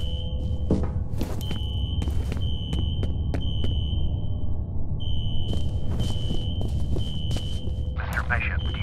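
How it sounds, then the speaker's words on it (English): A steady high-pitched fire alarm tone rings through an office floor in the shooter game F.E.A.R., nearly continuous with a brief gap, mixed with game rumble, clatter and bursts of noise. "A fire alarm. Triggered at a security office on that floor."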